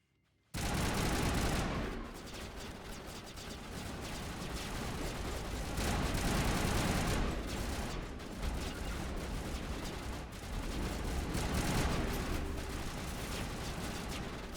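Dense, continuous gunfire rattles through a firefight in Mass Effect Legendary Edition, starting abruptly after a brief quiet and staying loud with rapid bursts and heavy blasts throughout.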